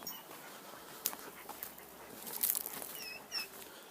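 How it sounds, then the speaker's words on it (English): Dogs near a backyard greenhouse, heard faintly at a distance as soft whimpers and yips over steady outdoor background noise, with no clear loud barks. "There's the dogs that's all the time barking and annoying as crap."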